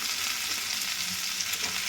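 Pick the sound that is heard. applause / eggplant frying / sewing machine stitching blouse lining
eggplant frying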